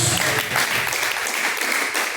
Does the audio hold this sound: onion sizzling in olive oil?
no